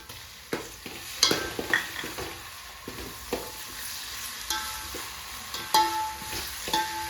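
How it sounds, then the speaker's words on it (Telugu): Chopped tomato dropped into ginger and garlic frying in a pan for dal khichdi, a close sizzle with scattered clinks and scrapes of stirring spread across the clip. "అల్లం, తెల్లబాయ పెడితే వేయించినాయండి. అందులో టమాటా వేస్తాం."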